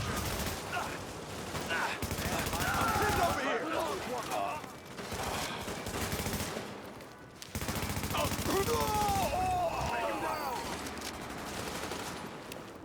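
Heavy gunfire rattles through a firefight in The Division, with dense bursts and continuous shooting and a brief lull partway through, while voices and radio chatter run underneath.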